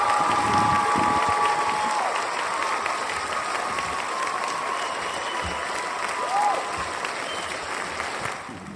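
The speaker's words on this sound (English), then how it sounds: "A round of applause for Dr." Audience applause at a lecture event, a steady, full wash of clapping from a crowd that carries on throughout, with faint voices mixed in underneath.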